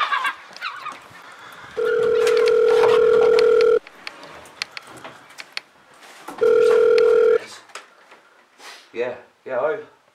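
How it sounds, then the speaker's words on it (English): A telephone rings in two long, steady electronic bursts of about two seconds each, loud and close, with people talking and reacting between and after the rings. "Is that the phone ringing?"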